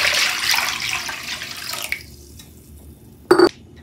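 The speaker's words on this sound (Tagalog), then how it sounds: "bubuhusan natin ng isang pitsul na tubig." Water poured from a pitcher while making prosperity gelatin: a steady, close splashing pour that tapers off after about two seconds, then a brief sharp clatter near the end.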